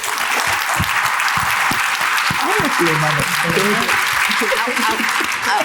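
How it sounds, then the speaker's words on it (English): Sustained, dense applause fills a room as an audience honors a panel of women at a Milwaukee event, with a voice speaking over the clapping. "Let's give them a big round of applause"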